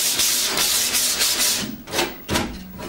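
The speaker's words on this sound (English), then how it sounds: "Just put a bit of sandpaper on that." Sandpaper is rubbed by hand across a wooden door being hung, a loud, close rasping in quick back-and-forth strokes that slow into a few separate swipes toward the end.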